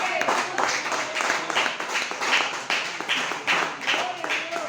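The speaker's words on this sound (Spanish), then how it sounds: "Usted puede aplaudir a Dios si quiere." Congregation in a church clapping together in a steady rhythmic beat, sustained throughout at moderate distance, with voices mixed faintly underneath.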